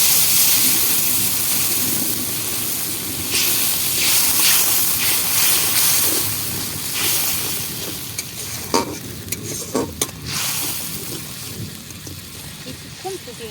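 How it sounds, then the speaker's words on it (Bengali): Water is poured into simmering potato curry gravy (aloo dum) in a pan, bringing a steady sizzling hiss with scraping stirring throughout and a few sharp utensil clinks near the end. "আমি অল্প করে জল দিয়ে দিচ্ছি"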